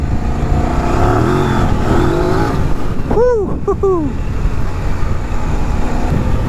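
Engine of a Kove 800X Rally adventure motorcycle riding off-road, a steady loud drone with a brief rising then falling rev in the middle, heard alone without talk.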